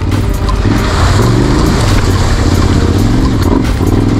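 A Yamaha Ténéré 700 adventure motorcycle is held at steady throttle while crossing rough terrain on a trail ride in Greece or Albania, a loud continuous engine drone mixed with wind and rumble.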